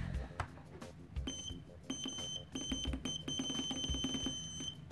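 Continuity beeper of a UNI-T UT118B pen-type digital multimeter sounding in repeated short and sustained high-pitched tones, with probe clicks and handling noise around them.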